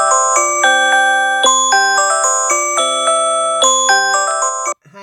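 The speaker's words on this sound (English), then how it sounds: "That was my alarm going off saying I needed to take medicines." Phone alarm reminder to take medicines, a repeating melodic chime of bright stepped tones in a steady rhythm, loud and close, cutting off abruptly at the end.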